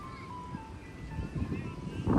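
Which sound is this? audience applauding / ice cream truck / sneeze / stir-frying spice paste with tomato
ice cream truck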